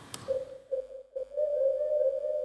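A sustained, airy synth lead tone from a "Ghost Lead" preset holds one pitch with a slight waver, briefly breaking off and then returning steadily.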